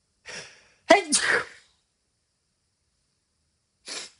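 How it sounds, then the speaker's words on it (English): A single person sneezes indoors: a short inhaled gasp, then one sharp burst, followed after a pause by a faint breath or sigh, with no talk around it. "I'm gonna sneeze."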